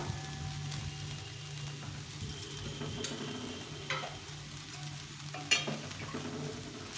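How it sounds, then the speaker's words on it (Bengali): Soybean curry masala frying in a pan, a soft continuous sizzle with occasional stirring scrapes and a sharper clink near the end, fairly quiet with no talking. "ভেজে নিয়েছি মশলার সঙ্গে একদম গল কষিয়ে নিয়েছি"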